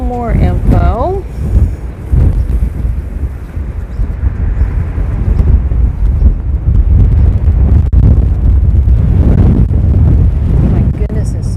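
Strong wind buffets the microphone in heavy, roaring gusts for the whole stretch, with a brief voice-like sound at the very start.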